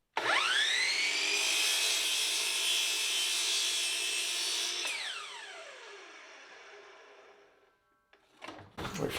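Power saw making a miter cut in a wooden shelf board for a hexagon floating shelf: loud whine holding steady through the cut, then winding down in a falling pitch as the blade slows, followed by a few handling clunks.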